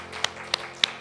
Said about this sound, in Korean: 우리 주님께 영광의 박수 올려드립니다